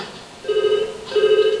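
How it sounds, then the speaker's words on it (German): A telephone rings in two short electronic bursts separated by a brief pause. The tone is clear and close, with no talking over it. "Das Telefon."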